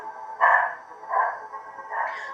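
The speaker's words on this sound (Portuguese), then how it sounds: "A minha cachorrinha latiu aqui." A small dog barks three times indoors, each short yap clear and fairly close, spaced evenly with brief pauses between and no talk over them.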